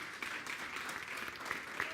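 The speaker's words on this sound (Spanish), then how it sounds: "Den un aplauso al Señor" A church congregation at a Sunday service claps for the Lord, a soft, fairly quiet patter of many hands that holds steady, heard from some distance.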